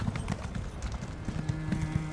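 Hooves of a horse clip-clop in a steady trotting rhythm in a video game, close and clear over a low ambient game backdrop.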